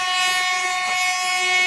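On the Konkan Railway, a Mangaluru–Mumbai LTT Duronto Express sounds a long, loud, sustained horn blast, steady throughout with no talk.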